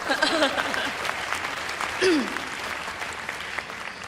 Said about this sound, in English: well, you can clap.